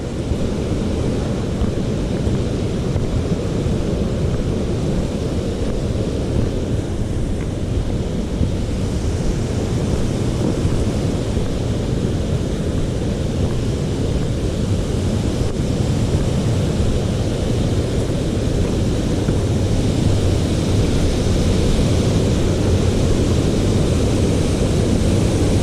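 Rainbow Falls waterfall pours in a continuous broad roar, heavy low rushing water with a steady hiss on top, unbroken and fairly loud the whole time.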